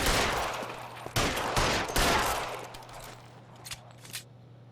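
A burst of rapid gunshots in L.A. Noire, several loud cracks in quick succession, then scattered shots that fade into quieter echoes.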